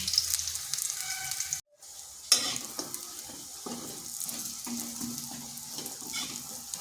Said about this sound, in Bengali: এইভাবে সব বড়াগুলো ভেজে নিচ্ছি